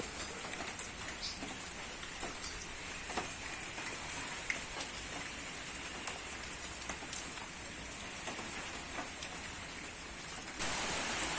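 Steady rain falls continuously on a duck and chicken farm, a dense even patter on surfaces, close and fairly loud, with no voices.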